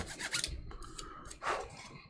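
Close, rasping file strokes drawn back and forth in a quick sawing rhythm against a hard surface, two main passes in a short burst.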